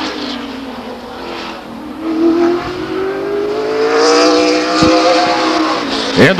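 The number 30 California Hotwood Special race car circles Stockton 99 Speedway, engine revving high and steady with pitch shifts as it sweeps through turns, loud, with brief sharp crackles near the end.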